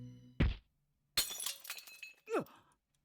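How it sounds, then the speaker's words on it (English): Glass shatters in the visual novel Chaos;Child: a sharp crash with tinkling shards scattering, preceded by a dull thud and followed by a brief whooshing sweep, all short and isolated. "I heard the sound of shattering glass and the impact stopped."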